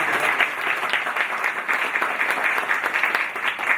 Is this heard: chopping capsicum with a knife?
no